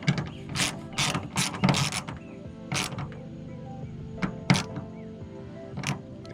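A hand ratchet snugs a 7mm bolt on a 12th-generation Ford F-150 tailgate, clicking in several quick bursts of pawl ticks separated by short pauses, close and clear with no talk.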